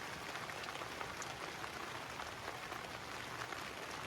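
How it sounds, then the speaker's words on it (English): Steady rain falls on a campsite at night, a dense, even hiss of drops pattering on surfaces close by, constant throughout with no voices. "I love listening to the rain."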